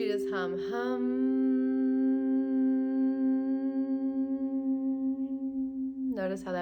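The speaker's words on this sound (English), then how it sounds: "I want you to just hum." A person hums one long, steady, resonant tone for about five seconds during a calming breathing exercise, close and clear, with brief breaths before and after.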